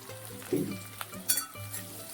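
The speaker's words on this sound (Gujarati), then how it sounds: "તો આ રીતે અંદર વઘારમાં આપણે એડ કરી દઈશું" Chopped onion and green chilli hitting hot oil tempering, giving a brief crackling sizzle with a couple of soft clinks, fairly faint and close.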